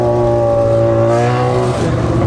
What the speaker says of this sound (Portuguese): Ó o ronco do bagulho